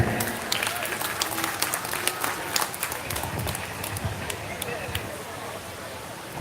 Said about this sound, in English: give her a big round of applause for coming out here.